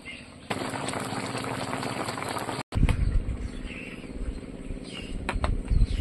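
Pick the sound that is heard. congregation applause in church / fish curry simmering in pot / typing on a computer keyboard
fish curry simmering in pot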